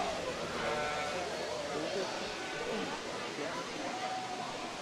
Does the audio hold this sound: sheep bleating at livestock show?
yes